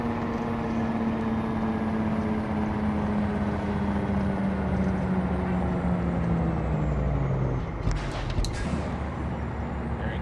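An International 9800 truck in American Truck Simulator slows down, its engine drone sinking steadily in pitch before a brief burst of air-brake hiss near the end. No one talks.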